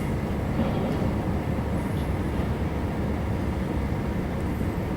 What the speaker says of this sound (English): watch a slow-moving train